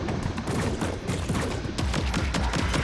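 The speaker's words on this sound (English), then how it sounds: "Let's just use the machine gun." Sustained machine gun fire in the video game Death Stranding 2, a dense, continuous rattle of rapid shots with booming low end, loud and unbroken throughout, with no voices.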